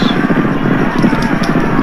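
Rapid hoofbeats of galloping horses drum steadily under a race commentator's voice, with a busy, crowded backdrop, in a video game horse race.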